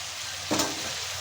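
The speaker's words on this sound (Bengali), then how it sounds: "মুলো আর আলুটাকে হালকা করে ভেজে নেব তেলে" Radish and potato pieces frying in oil, a soft steady sizzle with one brief louder burst of hissing midway, close and without talk.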